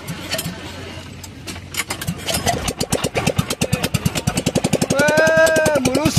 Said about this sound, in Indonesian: jalan mesin